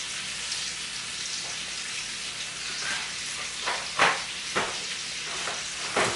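Eggs and bacon sizzle in a frying pan, a steady hiss broken by a few louder pops and crackles, with no voices over it.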